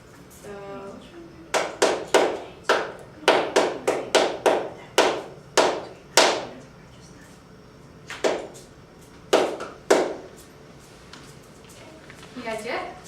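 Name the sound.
hands clapping a rhythm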